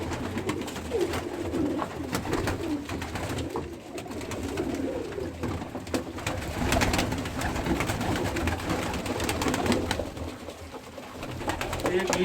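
Pigeons, including newly paired birds, coo steadily in a busy loft, with dense overlapping calls and rustling throughout and voices mixed into the background.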